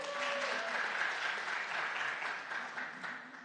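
At a city council meeting, an audience breaks into a fairly quiet but steady round of applause with no talking over it.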